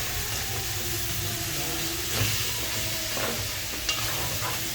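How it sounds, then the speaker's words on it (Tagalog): Pork fries in its own rendered fat with no added oil, a soft, steady sizzle and bubbling close by, with a few faint clinks of a utensil stirring the pan. "Pork, nilagay ko na siya para lumabas yung sarili niyang mantika."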